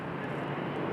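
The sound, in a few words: Otter airplane taxiing at Raleigh Durham airport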